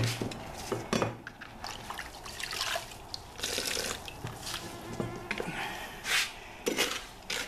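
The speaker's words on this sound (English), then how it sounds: "Let me make a little bit of a mix. Not too much. A little bit of a mud mix." Mud mixed with water for a bonsai, a close wet stirring and slapping with scraping against a container in irregular bursts, moderately loud and without talking.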